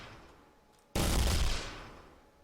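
A single burst from the lightning gun in Quake, played in software mode, erupts abruptly as a loud crackling blast that sustains briefly and fades over a second, with no talk over it.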